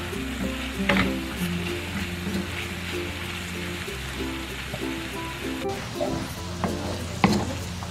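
Mixed vegetables fry in butter in a pan, crackling in a steady close sizzle, while a utensil scrapes and stirs them in irregular clanks and taps, with no voices.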